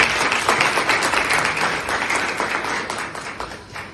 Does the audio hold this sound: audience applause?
yes